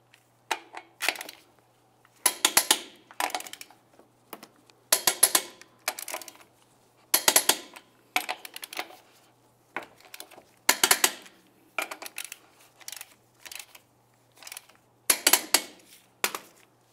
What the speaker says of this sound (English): Torque each of your lug nuts to 150 foot-pounds in a crisscross manner.